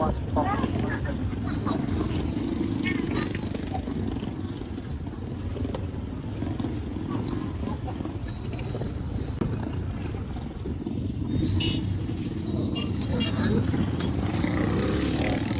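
Street traffic at a town market in Pacuan, La Libertad, Negros Oriental: a continuous low engine drone and rumble with gusty wind buffeting the microphone and voices talking throughout.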